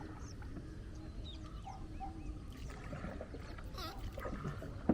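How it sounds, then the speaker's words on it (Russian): Many birds call in the morning in Kerala, a dense outdoor chorus of chirps and squawks over a steady rushing background, with a rooster-like crow among them, continuous and moderately distant. "Птиц очень много, они все орут с утра."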